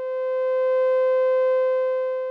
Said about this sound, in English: This results in a constant tone to the output.